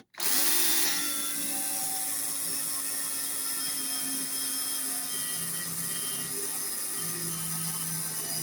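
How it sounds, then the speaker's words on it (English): A power drill bores a 7mm pilot hole into a VW T25 T3 Caravelle front seat swivel base, starting with a sharp bite and then holding a loud, steady whine for about eight seconds, alone with no talk. "Just going to drill a hole here."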